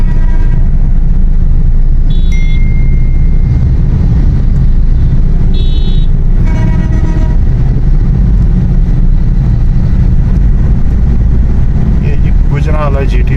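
Toyota Hilux Revo automatic driving along GT Road in traffic, with a loud, steady low road and engine rumble throughout, a few short electronic beeps, and someone talking over it.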